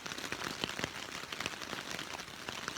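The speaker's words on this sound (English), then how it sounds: "It started raining about 4 o'clock in the morning. Still raining now." Steady patter of rain falling on a tent during a wet night on the Manistee River Trail, a dense fine drumming with scattered louder drops, close and fairly quiet.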